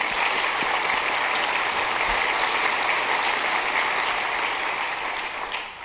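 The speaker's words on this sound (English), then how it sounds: "let's give Steve and our board a real warm round of applause" Warm, sustained applause from an audience at a San Mateo County business awards event, steady and dense throughout before easing slightly at the end, with no talking over it.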